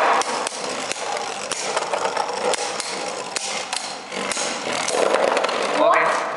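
Spinning tops clash with sharp, repeated metallic clicks and ticks inside a plastic stadium during a Beyblade battle between Storm Spryzen and Omni Odax, with a whirring spin continuing underneath.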